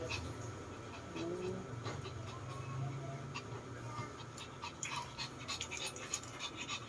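A dog pants quickly and rhythmically close by, with a faint whimper early on and light background noise.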